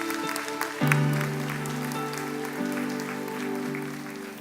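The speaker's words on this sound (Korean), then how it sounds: "우리 한번 축복의 박수 한번 합시다." A church congregation breaks into a broad round of applause, many hands clapping together in a dense, sustained wash while a low organ or keyboard chord holds underneath.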